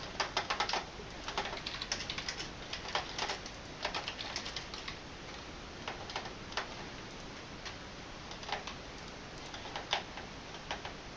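Computer keyboard and mouse clicks during a gaming session, irregular soft taps and clicks close by, quiet and steady with no voices.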